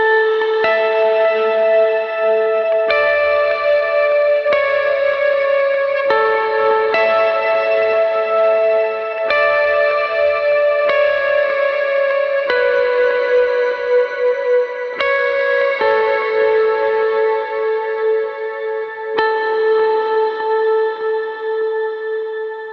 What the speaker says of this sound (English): the first chorus, I'm using an ice delay and a cloud reverb.